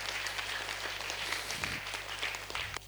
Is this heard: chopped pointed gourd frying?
no